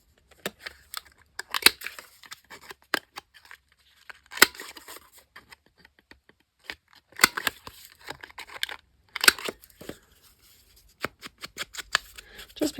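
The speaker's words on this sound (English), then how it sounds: "I'm going to trim the edges on these." Scissors trimming the edges of old paper calendar pages, quick crisp snips coming in short irregular bursts separated by quiet pauses, close and fairly soft with no talking.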